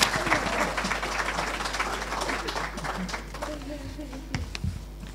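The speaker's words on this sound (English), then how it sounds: "Give him a round of applause" Audience applause at a university teaching award ceremony, a steady wash of clapping that runs the full length, slightly thinning toward the end with a few sharper claps standing out.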